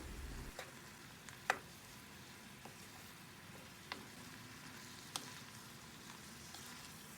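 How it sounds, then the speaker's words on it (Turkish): Sautéed mince filling and cabbage stirred in a pot: a faint, steady sizzle with a few soft spoon clicks scattered through, no voices. "Kavurduğum harç ve lahanayla yemeğimi şöyle bir karıştırıyorum."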